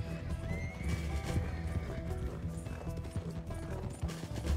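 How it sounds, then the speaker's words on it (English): Horse hooves clip-clopping at a fast gallop with a loud whinny in Red Dead Redemption 2, steady and close, over a busy bed of game effects with a faint metallic ratcheting. "That horse is pretty quick, though."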